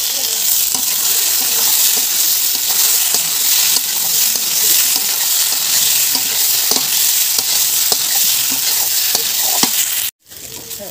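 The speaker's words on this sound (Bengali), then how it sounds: "এবার আমি কচুটা মশলার মধ্যে দিয়ে দেবো, মশলাটা ভাজা হয়ে গেছে একদম" Taro pieces added to fried spice paste in a pan, sizzling steadily with repeated scraping stirs throughout, loud and close, cutting off sharply near the end.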